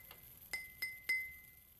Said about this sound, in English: if you clink it and it just clinks